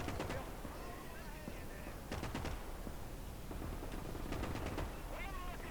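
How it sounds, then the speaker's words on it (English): Tank cannon and small-arms gunfire in the WWII strategy game Gates of Hell, Finland campaign: bursts of shots at intervals over a constant battlefield din, with mid-distance impacts and chatter layered throughout. "Tank shooting at him."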